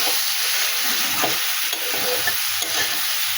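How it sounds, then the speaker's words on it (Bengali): Cauliflower and potato sautéed with spices in a pan produce a dense, continuous sizzle with soft stirring scrapes running underneath, loud and close throughout with no voices. "ফুলকপি আলু ভালো করে মশলার সঙ্গে কষিয়ে নিলাম"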